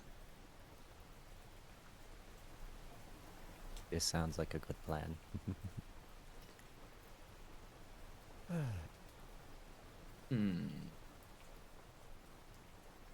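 Soft, steady rain patters faintly in the background as an even hiss beneath a few spoken phrases and short bursts of talk.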